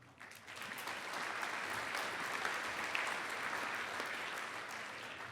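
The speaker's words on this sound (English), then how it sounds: "you should applaud yourselves." Delegates at an AGM applaud in a hall, the clapping swelling quickly from a quiet start into a steady, moderately distant wash of many hands that holds evenly to the end.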